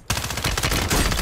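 Rapid automatic gunfire in Call of Duty Warzone 3, a close, loud burst of quick repeated shots that starts abruptly and runs unbroken for just over a second.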